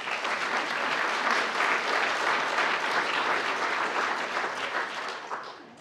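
A students association conference celebration audience gives a strong round of applause, dense and sustained clapping throughout the room that holds steady for several seconds before tapering off near the end.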